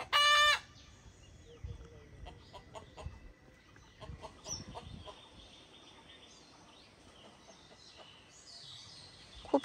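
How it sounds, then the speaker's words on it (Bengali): Hens and roosters clucking around a Bangladeshi village home in the morning, faint scattered clucks at a distance after a brief loud burst at the start, with quiet ambient background. "মোরগ মুরগিরা কক কক কক কক করতেছে"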